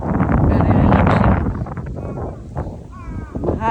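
Outdoor wind gusts and buffets the microphone, with a person speaking over it at first and the rushing settling into a quieter, steadier breeze afterward.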